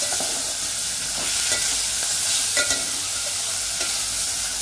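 Val beans being stir-fried with salt in a pan, a loud, constant sizzle with scattered scraping and clicking of the spatula, close up and without speech.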